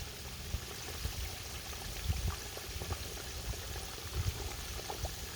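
Catfish fries in hot oil, giving a steady soft bubbling with small scattered pops and snaps, close up and continuous with no talking.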